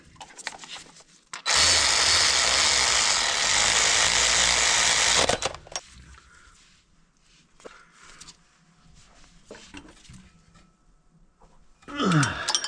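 A power tool bursts on loudly for about four seconds, tightening bolts on a VR6 24-valve engine, then stops. Quieter clanks and handling noises from the engine work follow.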